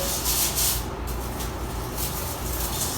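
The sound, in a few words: scrubbing porcelain toilet bowl with cleaning solution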